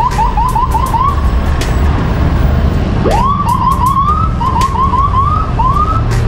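Ambulance sirens wailing close by among a row of parked ambulances, their rising and falling yelps repeating in quick overlapping cycles, loud and continuous over a steady background rumble.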